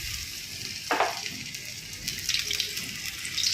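Bombay duck fish coated with chopped onion dropped into hot oil in a kadai, a sharp burst of sizzling followed by steady crackling frying.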